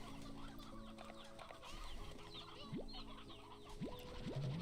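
Hens in the game Slime Rancher cluck and bawk in a busy farmyard chorus, with scattered short calls and a few rising squawks over a steady background of ambient game music.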